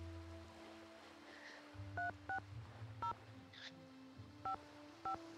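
A telephone number dialed in the Nancy Drew video game Danger on Deception Island: five short, evenly spaced DTMF keypad tones sound over a low hum and faint background ambience.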